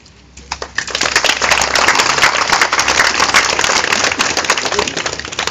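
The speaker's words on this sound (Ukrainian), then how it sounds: "таку підтримку висловити оплесками" Sustained applause from a rally crowd after a call in Ukrainian for support over a district council matter, starting sparse and swelling within a second into dense, steady clapping that holds loud to the end.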